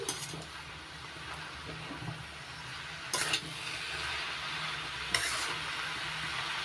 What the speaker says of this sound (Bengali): এবার নাড়াচাড়া করে মিশিয়ে নিচ্ছি।